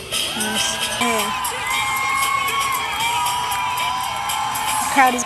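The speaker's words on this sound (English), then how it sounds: "The crowd is getting hype." A crowd at a performance event cheers and whoops throughout, with excited shouts and yells rising over a steady roar of voices, loud and close, a sharper burst near the end.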